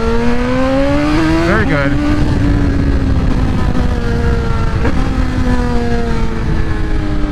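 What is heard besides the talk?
BMW M1000XR motorcycle accelerating in first gear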